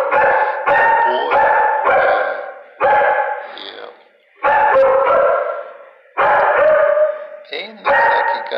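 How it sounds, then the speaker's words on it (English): A four-year-old shelter dog lets out loud, drawn-out barks and howl-like yowls in bursts, with short pauses between them, close by. "He's a good doggy."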